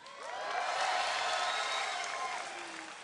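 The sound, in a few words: crowd cheering for a StarCraft II finalist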